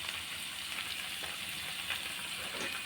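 Tomatoes frying in a pan for chitranna give off a steady, soft sizzle and hiss with faint crackles, heard close and alone.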